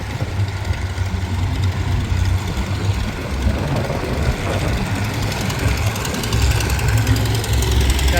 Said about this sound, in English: Here we got a cat grader going, leveling up the dirt pile.